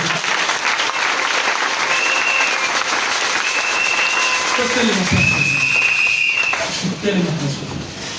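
A church congregation at a Sunday worship service bursts into steady, dense applause that fills the room for several seconds, with a sustained tone and some voices rising near the end.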